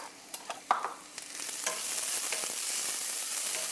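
Onions fry in a pan, starting with a few stirring clinks and scrapes before a soft, steady sizzle builds and holds.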